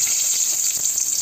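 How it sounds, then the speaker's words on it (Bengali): Bay leaves sizzle loudly in hot oil in a wok, a bright, steady hiss held for about a second. "এখন দিয়ে দেবো তেলের মধ্যে তেজপাতা"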